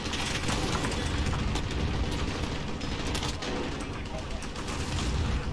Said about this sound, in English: Listen to the guns, Chappas!